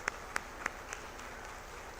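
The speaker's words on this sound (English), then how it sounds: "I think she deserves a big round of applause" A few faint, separate handclaps from a small part of the audience at a state conference of district chambers of commerce and industry, about four sharp claps early on that quickly fade into quiet room tone.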